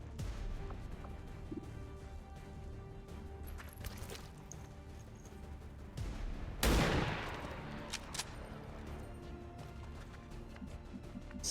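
Gunfire in XCOM 2 as a headshot is taken: a dense, steady battle bed of shots and crashes, with a sharp loud burst of fire around the middle standing out above the rest.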